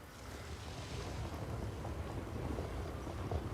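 Steady broadband rush of a waterfall pouring in a Jurassic World Evolution 3 enclosure build, a constant roar of falling water with no voices.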